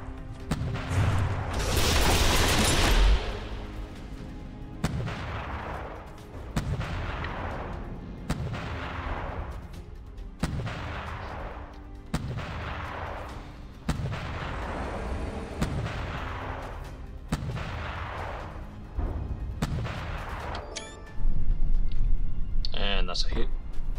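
Heavy cram cannon fire in the naval combat game From the Depths, a series of deep booming shots roughly every two seconds with rolling tails, loud and close, over constant battle noise and a heavier blast near the end.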